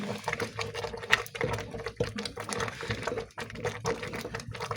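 Ugali being stirred in a pot as more flour is added, giving a steady scraping, thick churning sound with soft rhythmic knocks, near and alone without talk.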